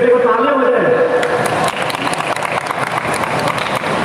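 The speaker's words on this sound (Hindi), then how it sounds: "एक बार दोनों के तालियां हो जाए" Audience applause at a Khelo India Youth Games Thang-Ta bout, a dense, continuous patter of clapping that rises in the second half, with voices mixed in.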